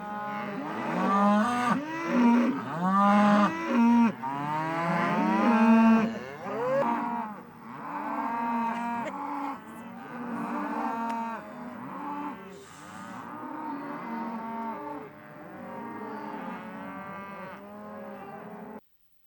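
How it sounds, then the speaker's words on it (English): A herd of cattle mooing repeatedly, many overlapping low bellowing calls rising and falling one after another, loud and close, with no talk over them. "that just sounds like a bunch of cows, you're right"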